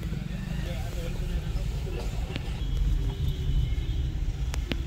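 Cars idle and creep through a traffic jam on a mountain road near Kainchi temple outside Nainital, a steady low engine rumble filling the scene with a faint horn-like tone near the end, with people talking nearby.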